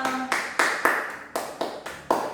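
A fourth-grade class claps in several sharp, separate bursts, each one loud and close, like short rounds of rhythmic group applause.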